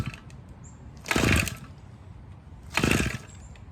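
Pull-starting a Redmax HEZ 3060 engine: two short, loud rasping pulls about a second and a half apart, each a brief burst of cranking with no catch, close to the microphone.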